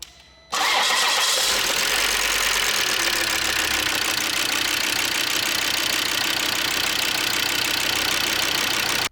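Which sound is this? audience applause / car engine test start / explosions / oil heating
car engine test start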